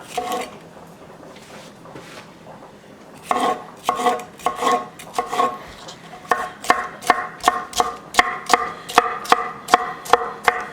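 A knife chops vegetables, onions and peppers, on a cutting board: a few scattered cuts, then a fast, even run of sharp close knocks, no talking.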